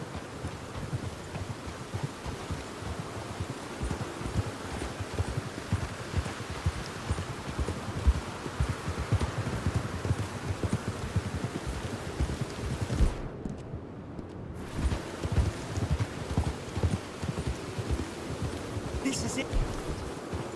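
Horse hooves clip-clopping in Red Dead Redemption 2, a steady walking rhythm under wind-like ambience with a brief gap partway through, lasting throughout.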